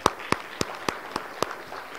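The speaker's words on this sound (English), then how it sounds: "So you guys should give yourselves a round of applause." Faint, evenly spaced claps at a conference luncheon, about six or seven sharp hand claps in a steady rhythm over a quiet room, sounding more like a single pair of hands than a full crowd.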